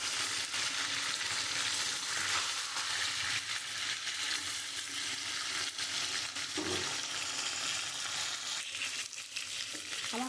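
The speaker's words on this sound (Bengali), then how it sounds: "আর একটু লাল করে ভাজতে হবে" Pointed gourd (potol) pieces fry in oil in a pan, producing a continuous bright sizzle with occasional stirring scrapes, close and unbroken by speech.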